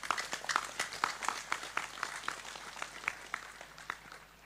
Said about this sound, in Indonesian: Ayo, tepuk sing banter, gak usah sungkan-sungkan.